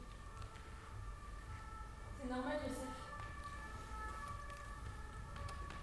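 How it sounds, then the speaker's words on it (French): Fire engine sirens wail faintly in the background of a stage performance, rising briefly midway beneath a woman's spoken lines. "J'entends les sirènes des pompiers."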